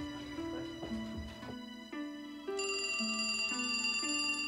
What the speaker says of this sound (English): startled by a mysterious phone call